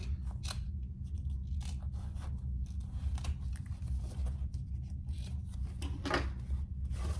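Scissors snip repeatedly through fabric while trimming the corners of a sewn waist pack, a steady run of close, crisp cuts over a low background hum.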